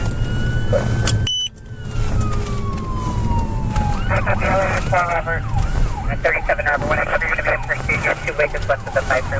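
A fleeing car accelerates during a police chase west of the 5 freeway, engine roar rising under a police siren wailing and warbling, loud and continuous, with a brief dropout early on and speech mixed in.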